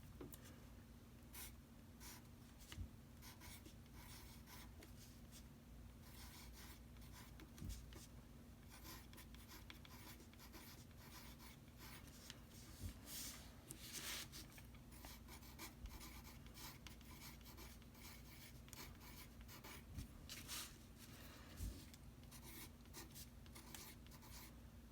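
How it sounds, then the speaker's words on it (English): A pencil or pen scratches across watercolor paper as a label is written along its top, a faint, close, continuous run of small strokes and taps with no talk. "we're going to just label the top of our watercolor paper"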